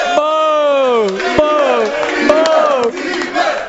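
A studio audience boos loudly with long, sustained, wavering boos from many voices that rise and fall together, close and dominant throughout.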